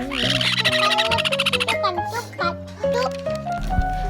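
Sun conure parrot chicks, freshly fed and flapping their wings, call loudly and shrilly in rapid repeated squawks and chirps close by, with someone speaking Thai over them.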